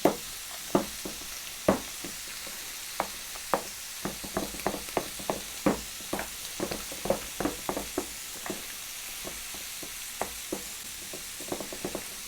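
Mayonnaise being creamed into cream cheese in a bowl gives repeated soft, wet slaps and squelches at an irregular, steady pace, quiet and close, over a low mixer-like hum.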